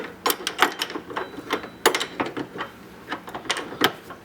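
An adjustable wrench tightens the nut on a ProCaster workbench caster, giving a close, steady series of sharp metallic clicks and ratcheting ticks in an uneven rhythm.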